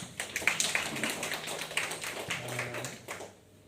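A church congregation claps in a loose, uneven patter of hand claps that fades toward the end, moderately quiet, with a low hum underneath.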